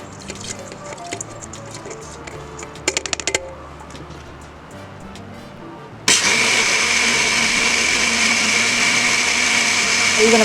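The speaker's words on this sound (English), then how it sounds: "pour this into a blender" Quiet kitchen clatter and a few sharp clicks, then a blender full of soaked rice roars on suddenly and runs loud and steady to the end.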